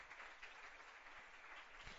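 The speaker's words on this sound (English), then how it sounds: "I'm just irritated with the clapping" An audience claps as a dense, faint patter that holds steady for about two seconds, heard from a distance.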